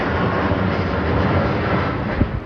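A passenger plane passes high over an upmarket part of Amman, a steady broadband roar that fills the whole moment at moderate loudness, with a faint knock near the end.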